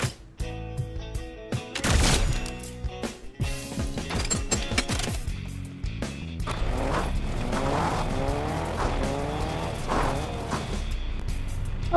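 Video game car engine revving and shifting while tires skid and squeal, loud and close over a busy background of game effects, with a few sharp gunfire-like bursts near the start.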